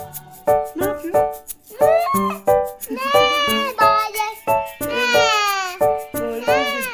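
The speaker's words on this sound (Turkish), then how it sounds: "Çiftliğinde kuzular ne yapıyor?" Lambs bleat in a quick series of short, wavering cries at close range, bunched into rhythmic bursts with brief pauses.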